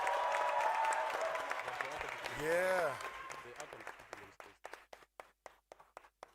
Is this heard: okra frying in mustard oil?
no